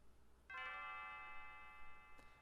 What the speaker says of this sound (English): And as Nadia's bell rings,